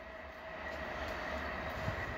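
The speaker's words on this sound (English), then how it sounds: "Intercity 125 is going fast." An Intercity 125 train rushes past at speed, a sustained loud rumbling roar with a faint whine on top, steady throughout and heard from nearby outdoors.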